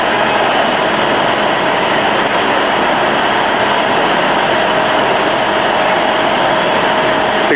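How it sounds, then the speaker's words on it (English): Firefighters pour heavy streams of water onto a building fire in Hoboken, a loud, constant rushing hiss that holds unchanged throughout with no talking. "they're putting lots of water on this thing."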